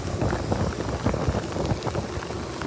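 Steady outdoor rain falls in a dense, continuous patter with some wind noise, loud and close throughout and with no voices.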